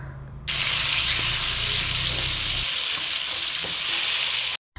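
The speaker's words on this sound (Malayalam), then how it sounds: "ഇനി തിരിച്ചിട്ട് ഒന്നും കൂടെ മൊരിക്കണം" Fish pieces sizzle loudly in hot oil in a pan after being flipped, a dense, continuous close frying hiss that swells after a short pause, dips briefly near the end and then cuts off.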